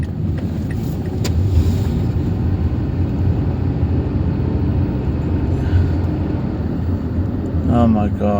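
The interior of a new car while driving: a steady low engine and road rumble fills the cabin at a constant level, with a brief voice near the end.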